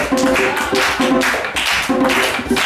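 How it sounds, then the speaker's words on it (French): Audience applause for a young child named Sacha at a storytelling show, loud close clapping in rhythmic bursts that keeps going without talk. "Moi j'ai dit applaudissez-le"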